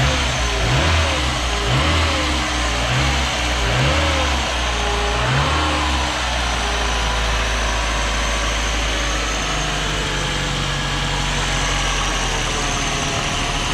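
A Citroën ZX Volcane engine revs in several rising and falling bursts, then settles into a steady idle, loud and close with no talking.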